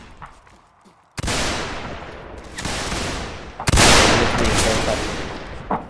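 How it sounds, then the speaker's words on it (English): Musket volleys from a line of reenactors of the 32nd Regiment of Foot, two or three loud, close, ragged bursts of gunfire with long echoing tails, the first after a short quiet stretch. "Keep on firing"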